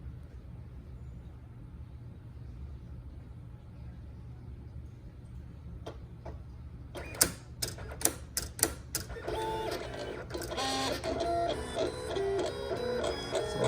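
A Cameo 4 Plus cutting machine works through a long cut, with a low steady hum, then a run of sharp clicks and jolts followed by busy whirring and buzzing motor movements up close.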